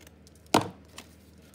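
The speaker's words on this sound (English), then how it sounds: "Cut along the top here to open it up." A paper envelope is sliced open along its top edge in one sharp, close cut, followed by a fainter rustle of paper about half a second later.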